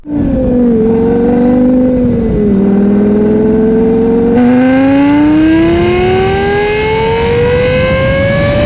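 A legendary 2000s race car engine revs loud and close, a high, sustained wail that dips briefly, then climbs steadily in pitch as it accelerates, alone with no talk.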